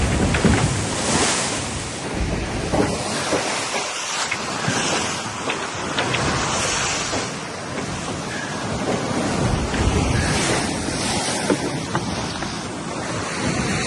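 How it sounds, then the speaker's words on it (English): Big open-ocean waves rush and crash around a racing sailboat in the Vendee Globe, heavy continuous surf and hull wash mixed with gusting wind buffeting the microphone, no voices. "pretty big waves here."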